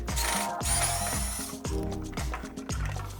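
An electric screwdriver backs a screw out of the battery case of a Vive Compact power wheelchair, making close, repeated short whirring bursts with small mechanical clicks between them and no talking.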